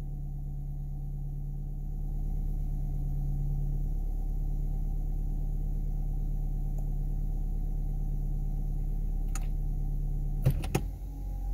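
A car engine idles steadily at close range while the transmission is shifted through its gears, giving a low constant hum that rises slightly, with a few brief clicks and knocks near the end.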